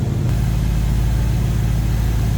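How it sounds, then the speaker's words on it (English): A 1971 Chevrolet Nova engine settles into a lower idle after a throttle blip, running as a loud, steady, close rumble with an even low pulse and no voices. "Gave it a little blip of the throttle. Now we're on the lower idle."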